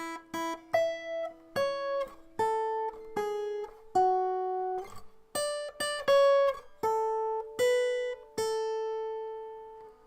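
The closing phrase of Happy Birthday picked out on guitar, a steady run of single plucked notes with ringing harmonics, each note sounding alone and close, without voices.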